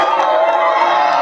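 Racing supporters at a youth football penalty shootout cheer loudly right after the win, a dense, sustained crowd roar with shouts and whoops blending together.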